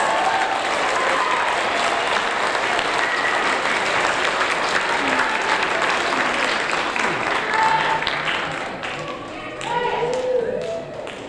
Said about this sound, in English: Now you can give a round of applause for all of these wonderful students.